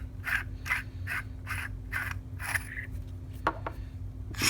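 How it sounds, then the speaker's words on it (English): The threaded sleeve of a lightsaber hilt is unscrewed in a series of about six scraping, gritty twists at a steady rhythm, followed by a couple of light clicks over a faint hum. "go ahead and unscrew this"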